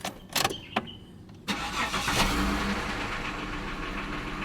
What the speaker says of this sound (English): So now we are going to start this car.